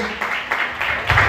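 A church congregation applauds briefly, a soft, even patter of many hands clapping at a moderate distance, with no voices over it.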